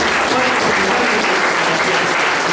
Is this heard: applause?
yes